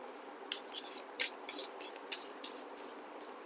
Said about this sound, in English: I would like to shuffle some more.